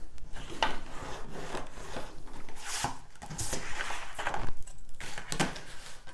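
Cardboard being creased and folded along scored lines while making a chocolate box: a run of close, dry crinkling and rubbing swipes, several in quick succession, with no talking.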